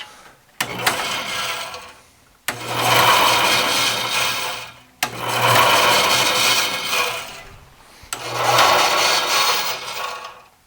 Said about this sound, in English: it's dragging on that guide bearing